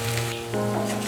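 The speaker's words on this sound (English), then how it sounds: "Then add the ground paste and let it cook for about a minute." Ground spice paste with garlic and shallots frying in coconut oil for a prawn curry, giving a steady close sizzle with a faint hum beneath, no talking.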